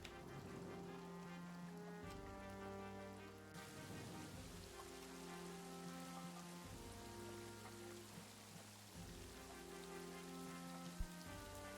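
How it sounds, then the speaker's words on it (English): Heavy rain in the trench warfare video game All Quiet in the Trenches hisses steadily in the background, faint and constant, beneath a slow sustained musical score with low droning notes. "the rain sounds heavier"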